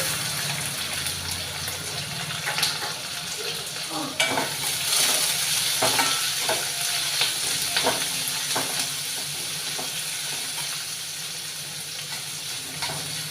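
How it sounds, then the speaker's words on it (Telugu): Chopped onions sizzle steadily in hot oil in a pan while being stirred for a beans and tomato curry, with scattered spoon scrapes and clinks, busiest in the middle, over a constant frying hiss. "తరిగి పెట్టి ఉంచుకున్న ఉల్లిపాయ ముక్కల్ని ఇందులో వేసుకోవాలి"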